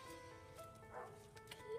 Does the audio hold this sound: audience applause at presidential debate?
no